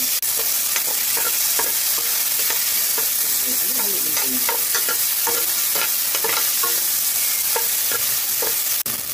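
Garlic, onion and tomato sautéing in a pan, a steady loud sizzle with repeated scraping strokes of a spatula stirring throughout, no talking.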